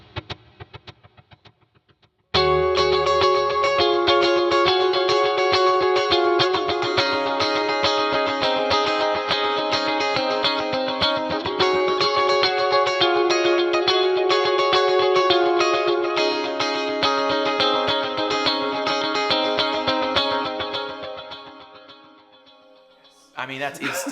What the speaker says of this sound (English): It's a prominent delay sound.